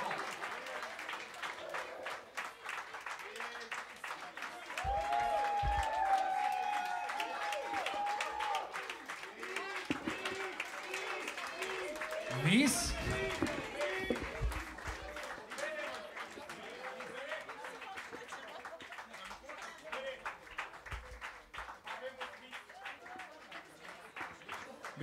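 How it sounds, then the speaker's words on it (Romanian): A concert crowd applauds and stomps steadily at a rock gig, a dense roar of clapping and thudding feet that runs throughout, with a voice shouting over the noise. "voi ați aplaudat, ați tropăit"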